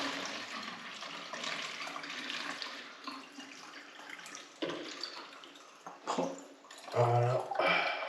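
Water is poured out outdoors on a bivouac hike around the Ballon d'Alsace. It runs in uneven gushes and splashes at close range, with a louder burst near the end.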